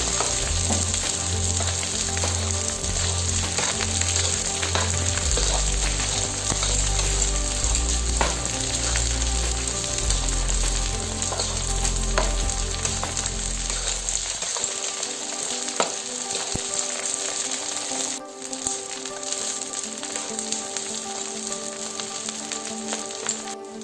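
Ground edible gum being roasted in hot flour in a pan, a steady loud sizzle and crackle with stirring scrapes, the low rumble dropping away partway while the frying continues alone.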